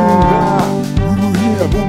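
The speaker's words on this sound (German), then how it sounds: "Und da laufen viele Kühe rum" Cows mooing within a German children's farm song: long, sliding, drawn-out moos over loud, continuous music.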